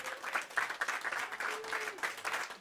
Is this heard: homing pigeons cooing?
no